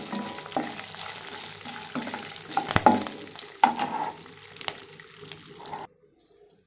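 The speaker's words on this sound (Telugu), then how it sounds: "ఇవన్నీ బాగా వేగే వరకు ఫ్రై చేసుకోవాలి." Cumin seeds and curry leaves fry in hot oil in a pan for a jackfruit curry: a close, crackling sizzle with scattered pops and a few utensil clinks, then abrupt quiet near the end.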